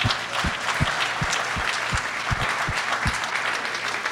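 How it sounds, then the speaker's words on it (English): An audience applauds during wedding speeches for Zared, with dense steady clapping across the room, loud and sustained throughout, punctuated by low thumps, with no talk. "Give him a round of applause."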